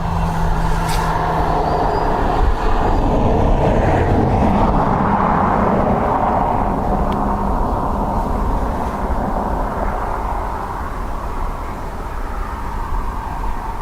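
A British Airways airliner in from London City at Dublin Airport, a broad continuous engine roar that stays steady and fairly loud throughout with no voices.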